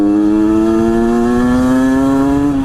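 A Famel XF-17 motorcycle engine revs steadily during a test ride, a loud close buzzing drone whose pitch climbs slightly and holds for a few seconds with no talking.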